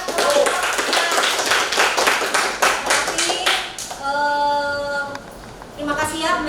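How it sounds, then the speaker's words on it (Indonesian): A classroom full of students applauding a presenting group, brisk rapid clapping for several seconds, followed by a teacher's voice speaking and then another short burst of claps. "kasih aplaus buat kelompok"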